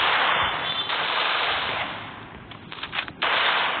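Bursts of rapid automatic gunfire from a shooting video game, loud and continuous with a short break before the firing resumes.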